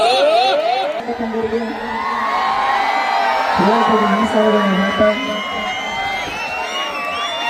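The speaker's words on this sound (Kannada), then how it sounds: "ಬನ್ನಿ ಜೋರಾದ ಚಪ್ಪಾಳೆ." An audience at a stage event whoops and cheers loudly and continuously, shouts rising over a dense crowd roar, with voices calling out throughout.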